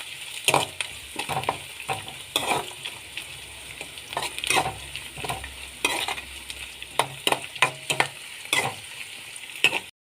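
Peanuts frying in a pan for poha upma, a steady crackling sizzle broken by repeated scraping stirs of a spoon against the pan, close and clear with no talk.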